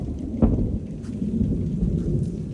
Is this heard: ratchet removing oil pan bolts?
no